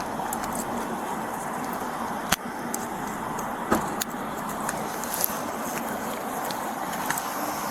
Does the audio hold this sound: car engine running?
yes